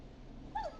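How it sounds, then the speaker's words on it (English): A neighbor's dog in the video game Killer Frequency gives a single short, faint whimpering yip heard from a distance at night, alone against a quiet background. "It's my neighbor's dog."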